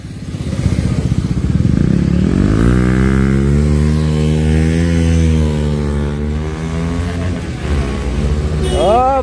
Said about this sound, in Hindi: दोनों बाइक में अभी एग्जॉस्ट लग चुकी है, एकदम खतरनाक साउंड कर रहा है अभी भाई यार।